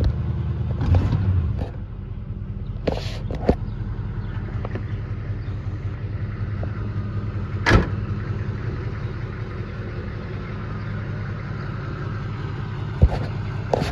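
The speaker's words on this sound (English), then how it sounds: "So I'm gonna bring it down to low idle and hear it smooth out now that it's warmed up." Warmed-up carbureted car engine, a 1971 model, settling from high idle to a steady low idle, a continuous close rumble with a few brief clicks and knocks along the way.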